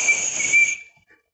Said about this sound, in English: the sound produced by this smaller pipe was more shrill than that of this larger pipe